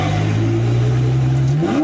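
A Ferrari 812 on a Spanish mountain road passes close by, its engine loud and steady before the revs rise sharply at the end.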